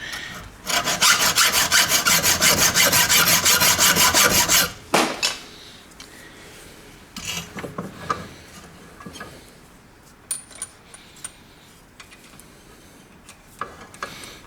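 A linishing wheel grinds during the restoration of an 1865 Forster & Andrews pipe organ, a loud steady abrasive rasp for several seconds, then it stops and scattered clicks and knocks follow.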